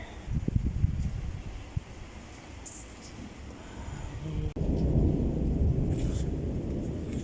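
Rain falls on flowers in Antalya, a soft continuous hiss with a few scattered drips, swelling louder halfway through and holding steady, with no voices.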